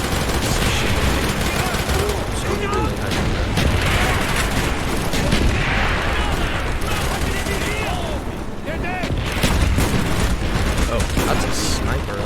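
Rapid gunfire and booming shots from Call of Duty: Black Ops, including sniper rifle fire, crackle densely and loudly across the whole stretch, layered with battle noise and some voices.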